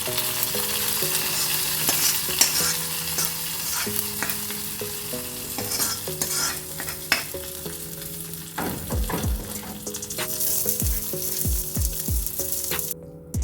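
Hot tempering is poured into Kerala-style ash gourd buttermilk curry, crackling and sizzling steadily, with stirring clinks and a few sharp spoon taps against the pot.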